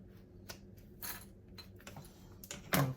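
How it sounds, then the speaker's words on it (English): Pinking shears snipping along a fabric seam allowance while sewing a purse, a few quiet, separate crisp cuts spaced over a few seconds, close up. "I have my pinking shears. Okay, so I'm just trimming off the extra seam allowance"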